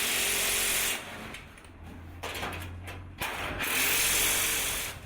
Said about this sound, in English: tighten all of the screws on the